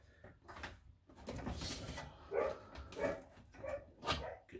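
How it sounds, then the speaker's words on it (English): Dogs bark downstairs in a house, muffled and somewhat distant, a series of repeated barks spaced about a second apart. "Dogs are going mad downstairs."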